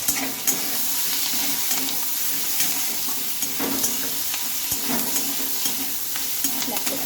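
Drumstick leaves with onions stir-frying in a pan, a continuous bright sizzle with intermittent scraping and stirring clatter, close and steady throughout.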